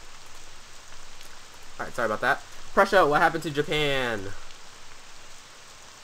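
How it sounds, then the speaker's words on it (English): Steady rain from the HetaOni video game, a soft continuous hiss running through the whole stretch, with a voice talking over it in the middle. "Let me raise the audio a little bit so you guys can hear some of the rain"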